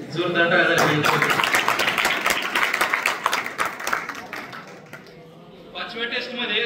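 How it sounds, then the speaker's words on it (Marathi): Audience applause breaks out after a student's ranking is announced at a school event, a dense, steady patter of many hands that thins near the end as a voice cuts in. "जोरदार टाळ्या झाल्या पाहिजेत."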